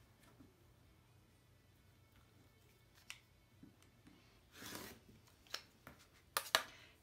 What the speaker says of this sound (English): take your square and cut corner to corner